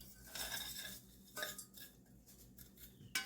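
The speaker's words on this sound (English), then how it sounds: "I'm just going to stir my panko into the butter real quick, just to get it coated" Panko breadcrumbs are stirred into melted, browned butter in a pan, giving soft scraping and light clinks of a utensil against the cookware, quiet and close.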